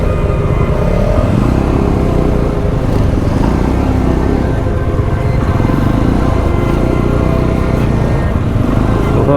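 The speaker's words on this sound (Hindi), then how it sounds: "क्रूजर बाइक में ऑफ रोडिंग का मज़ा लेते हुए अपन सब" A cruiser motorcycle climbs a rough off-road uphill track near coal mines in Jharkhand, its engine droning loud and steady throughout with a low rumbling throb.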